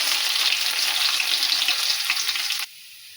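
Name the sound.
garlic, cumin and mustard seeds frying in oil for mango pickle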